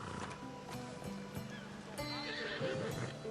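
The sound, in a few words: horse neighing in video game Assassin's Creed Odyssey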